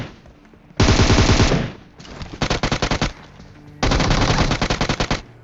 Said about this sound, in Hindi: यहाँ पे मैंने इसको इतनी साइड से फायर दिया कि ये कंफ्यूज हो गया